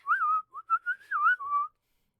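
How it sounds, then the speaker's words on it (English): A person whistles a short tune of about seven wavering notes, close and clear, with brief gaps between phrases and silence at the end. "I can whistle."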